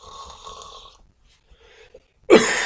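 A voice imitates someone snoring while asleep on a bus: a few soft breathy sounds, then one loud rasping snort at the end, close and alone.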